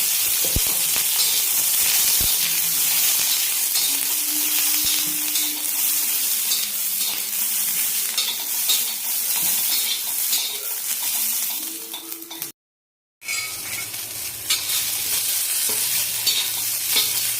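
Green chillies roast and sizzle in a pan with a loud, steady frying hiss and occasional stirring, broken by a brief silent gap near the end before the sizzle resumes more softly.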